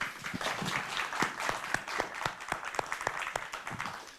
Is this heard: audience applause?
yes